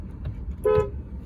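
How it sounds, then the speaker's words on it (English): A single short, clear toot comes from the horn of a 2014 Audi A5 2.0T Prestige manual coupe, heard close over a low background rumble. "Good sounding horn."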